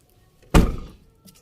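Tailgate of a 2021 Wuling Confero S 1.5 pulled shut, a single solid close-up thunk with a short rattling decay, otherwise quiet.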